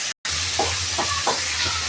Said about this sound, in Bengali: এখন আমি মাথাটা দেখে ভাজার জন্য দিয়ে দিয়েছি।